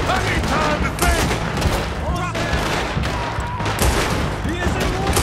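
Heavy gunfire rattles without pause through a bank robbery shootout in Red Dead Redemption 2, dense overlapping shots and bursts filling the whole stretch, with shouting voices mixed in.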